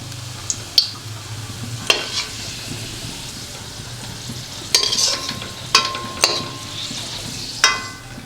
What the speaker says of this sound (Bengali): পেঁয়াজ, রসুন, আদা, লঙ্কা ভাজা হয়ে গেছে, এবার আমি মিক্সিতে বেটে নেব